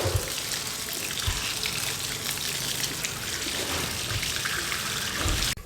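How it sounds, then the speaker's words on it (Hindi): A kitchen tap runs steadily over rice being washed for Sindhi biryani, a loud continuous rush and splash of water with no talking. "यहाँ पे नल खोल के अच्छे तरीके से इनको वॉश कर लें"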